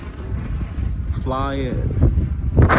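Gusty wind rumbles and buffets the microphone throughout at Haverstraw Bay Park, with a person speaking briefly over the blustery noise.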